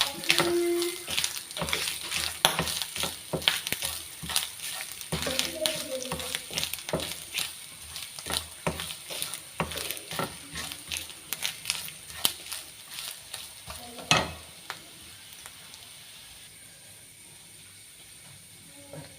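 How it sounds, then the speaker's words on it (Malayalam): Freshly ground coconut roasting in a pan for a Kerala erissery gives a steady close hiss and crackle, with scraping clicks of stirring throughout that fade toward the end. "ഈ തേങ്ങ ഇട്ട് കൊടുത്ത് ഒന്ന് വറുത്തെടുക്കണം"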